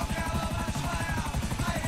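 Helicopter flying in GTA 5 Online, its rotor thumping in a fast, steady chop close up and loud, with a whining engine tone layered over the beat.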